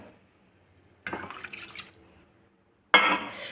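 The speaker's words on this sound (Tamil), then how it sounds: "இப்போ இன்னும் கொஞ்சம் தண்ணி போட்டுக்கிறோம்." Water is poured into a turkey berry curry in two short bursts, a longer splashing pour and then a brief louder one after a pause, close and clear.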